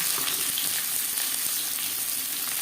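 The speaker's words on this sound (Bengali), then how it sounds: "সর্ষার তেল গরম করে নিয়েছি আপনারা চাইলে রিফাইন্ড অয়েলও করতে পারেন এবার দিয়ে দেবো পেঁয়াজ কুচি" Chopped onions sizzle in hot mustard oil in a pan, making a steady, close, hissing crackle that stays loud throughout with no talking.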